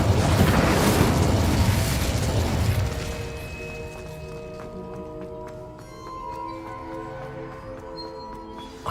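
An Incendio fire spell blasts in the Hogwarts Legacy video game, a loud roaring burst of flame that fades after about three seconds into a ringing, metallic tonal tail with scattered light clicks.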